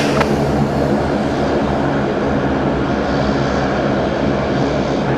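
A jet airliner rolls for takeoff on runway 34 left at Sydney, a loud, steady low engine roar that fills the scene without pause.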